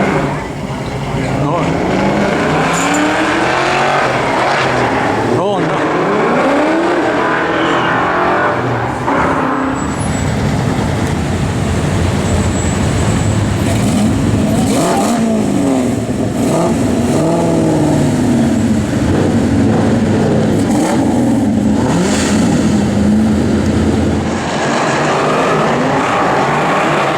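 A white 5.0 and a Mach 1 accelerate hard on a drag strip at night, one of them running nitrous, their engines roaring loudly and continuously with rising revs, while people talk over the noise.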